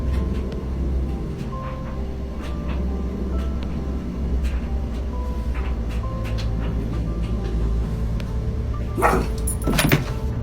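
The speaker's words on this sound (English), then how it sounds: "They heard noises in the room whilst their dog was barking" A dog barks in a home, with a few sharp barks coming late over a steady low rumbling background, moderately close and without any talk.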